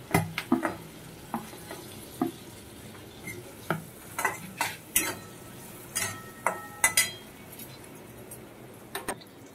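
Chilies and dry chili powder stirred in hot oil in a pan, a soft steady sizzle beneath repeated scraping and clinking taps of a spoon against the pan, fairly close and moderately quiet.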